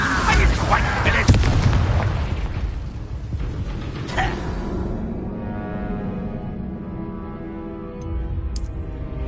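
Fire-spell blasts in the wizarding game Hogwarts Legacy: loud booming bursts and crackling impacts early on, settling into a rumbling, roaring tail with a few later thumps and a brief high chime near the end.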